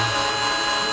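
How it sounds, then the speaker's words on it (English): A power drill whirs steadily at full speed for the whole second, loud and close, with no talking. "So you want to take your drill gun, just go ahead and drill"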